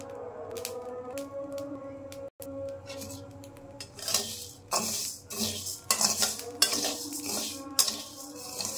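Rice for bichki is dry-fried in a pan and stirred repeatedly, with scraping spoon-on-metal strokes and clinks over a soft background crackle, close and irregular, with no voices.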